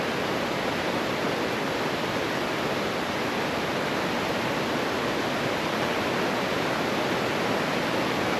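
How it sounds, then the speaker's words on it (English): Heavy rain pours down on a homestead garden, a dense, steady hiss that stays constant throughout with no breaks. "while it's pouring down the rain"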